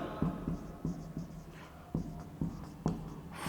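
Chalk or marker strokes on a board during a chemistry lecture on the mole concept, a series of short scratchy taps and scrapes in an irregular rhythm over a low steady room hum.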